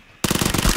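A rapid burst of automatic gunfire empties a magazine in PUBG. The shots are close and loud, roughly a dozen evenly spaced reports in under a second, starting abruptly after a brief quiet.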